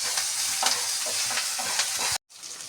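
Chopped ginger sizzles loudly in a hot pan while a utensil stirs and scrapes through it, with a brief cut to silence near the end.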